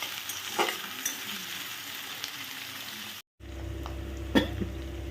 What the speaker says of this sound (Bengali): একটু পেঁয়াজটা লাল লাল করে ভাজা হোক